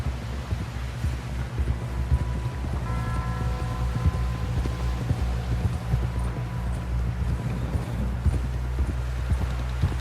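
Steady clip-clop of horse hooves in the video game Red Dead Redemption 2 plods along at an even rhythm, close and continuous, with a low hum and faint background sounds.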